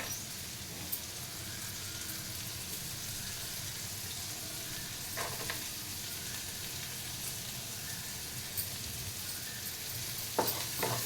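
Carrots and mixed vegetables frying in a pan for paneer fried rice: a steady, soft sizzle runs throughout, with a few faint clinks and stirring scrapes and no talking.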